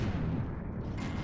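Missile fire during a space dogfight in the game Freelancer, a loud burst of booming, crackling launches lasting about a second, heard alone without talk.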